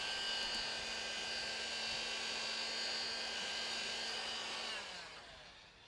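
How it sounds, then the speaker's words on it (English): A heat gun shrinking heat shrink tubing over diodes during a bandsaw LED repair, a steady close whirring blow with a faint whine that holds evenly for several seconds before tapering off. "with a heat gun I'll shrink that down"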